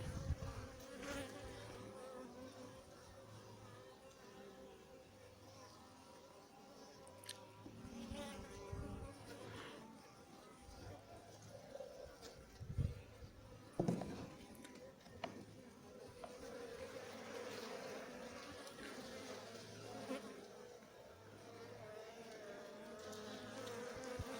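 Honey bees buzz steadily around an open beehive during a queen inspection. The faint, continuous hum comes with occasional louder passes of individual bees close by and some light handling knocks.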